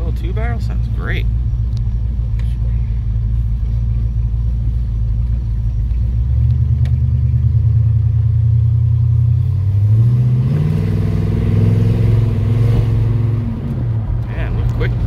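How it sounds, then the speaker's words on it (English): A 1963 Pontiac LeMans convertible with a 350 engine and two-barrel carburetor running, a deep steady rumbling idle close by that rises into a couple of revs partway through, with people talking over it. "A little two barrel sounds great."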